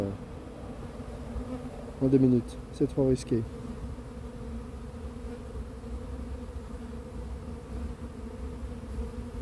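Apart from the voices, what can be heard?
honeybee swarm buzzing around a hive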